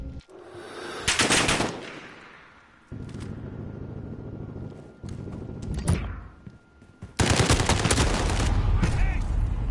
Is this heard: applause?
no